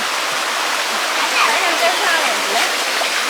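A small village stream runs in a steady, close rush of flowing water, continuous and fairly loud, with light splashing textures throughout.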